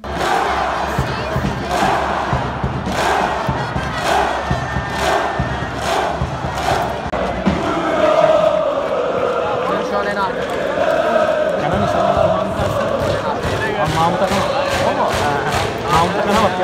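Ankara Gücü football fans in the away stands at Kasımpaşa chanting in unison, loud rhythmic voices with steady clapping beats, a packed terrace close by and building in intensity midway.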